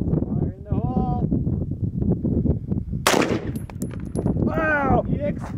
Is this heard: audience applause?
no